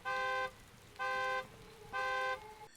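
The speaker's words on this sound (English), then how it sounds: "If you bump into parked cars, you can trigger their alarms." A parked car's alarm in the Manhunt 2 video game, set off by bumping the car, sounds three evenly spaced loud electronic honks, each about half a second long, separated by brief gaps.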